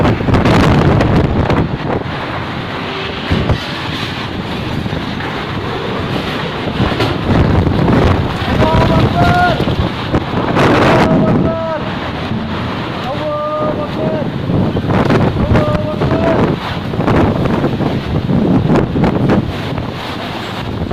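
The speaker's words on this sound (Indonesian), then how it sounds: "Ini angin puting beliung sampai di Magetan." Strong whirlwind (puting beliung) gusts battering the microphone in Magetan, a loud roaring rush of wind that swells and dips throughout, with people talking intermittently underneath.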